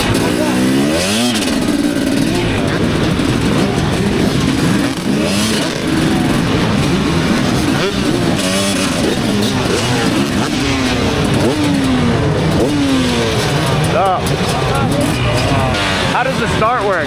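A pack of motocross dirt bikes at a race start revs hard together, a loud raspy wall of engine noise with rising and falling whines, while people talk over it.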